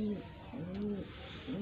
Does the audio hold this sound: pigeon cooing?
yes